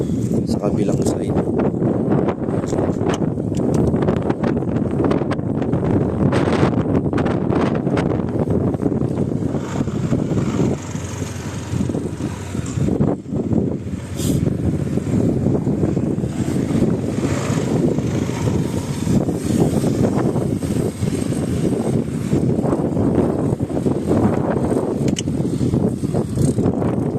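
Strong wind buffets an outdoor spot, producing continuous low rumbling gusts that swell and fade. Someone talks over it throughout.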